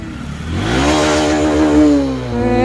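Motorcycle engine revving for off-road riding, rising in pitch across the clip, loud, steady and close, with no talk over it.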